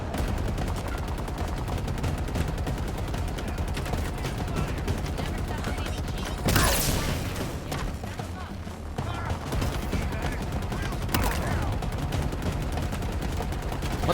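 Rapid gunfire from a Wasp mech's weapon in a sci-fi shooter game, a steady loud stream of shots throughout with sharper bursts near the middle and later on.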